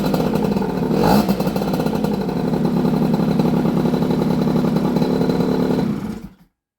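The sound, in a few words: Honda Bosozoku scooter engine running with choke off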